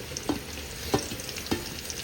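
Food frying in a pan during batch frying, a steady crackling sizzle with three short stirring scrapes spaced evenly over it, close and moderately loud.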